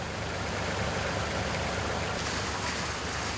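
Steady heavy rain shower pouring down outdoors at a pine tree transplanting site, a dense continuous hiss of falling water with no voices.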